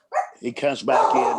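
A pet dog barks a few quick yips close by, overlapping someone speaking indoors.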